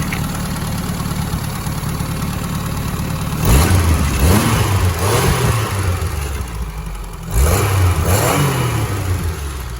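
A 1961 Renault Dauphine's engine idles loudly up close, then is blipped twice, each rev rising and falling back to a steady idle.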